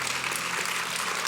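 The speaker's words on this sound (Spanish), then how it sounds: "Denle un fuerte aplauso al Señor." Dense, continuous applause from a church congregation, steady and fairly loud throughout.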